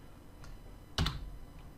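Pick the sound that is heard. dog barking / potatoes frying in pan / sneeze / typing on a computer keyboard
typing on a computer keyboard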